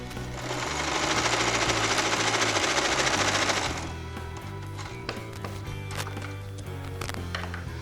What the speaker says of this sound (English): I'm going to sew this up.